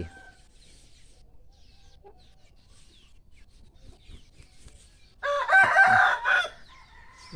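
After a few quiet seconds of faint rustling, a fighting rooster crows once loudly and nearby, followed by a brief cluck.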